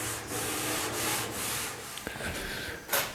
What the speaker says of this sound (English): So I'm going to wipe this orange rust off so that we can see what we've got underneath.